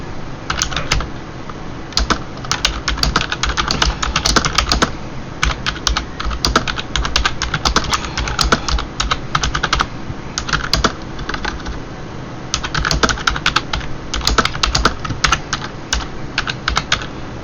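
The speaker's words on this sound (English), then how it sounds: "I'm just typing something in." Steady typing on a computer keyboard, with rapid bursts of keystrokes broken by short pauses, close and fairly loud, no voices.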